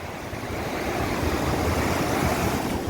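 Ocean waves at Bekal beach in Kasaragod wash in with a continuous, loud roar of surf, mixed with rumbling wind noise across the microphone and no voices.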